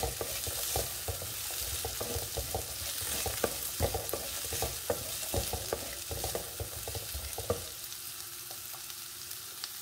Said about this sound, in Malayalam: പയറിട്ട് കഴിഞ്ഞാൽ ഒന്നോ രണ്ടോ മിനിറ്റ് നമുക്കിതൊന്ന് ഇളക്കി കൊടുക്കണം അടുക്കി പിടിക്കാതിരിക്കാൻ വേണ്ടിയിട്ടാണ്